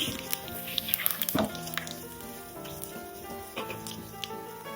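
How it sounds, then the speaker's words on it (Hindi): Whole spices tempering in hot oil for a mushroom masala, sharp scattered crackles and pops over a steady sizzle, close and fairly loud. "तड़का को थोड़ा तड़क देने दूंगी।"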